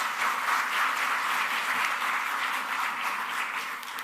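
An audience at a career preparation event in Dubai applauds, moderately loud continuous clapping that slowly thins out toward the end.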